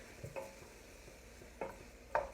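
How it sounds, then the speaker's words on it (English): A spoon stirs carrots into a vegetable broth with wine for a ginger carrot soup. The sound is quiet, with a few soft clinks and scrapes against the pot over a low background. "Give this a good stir."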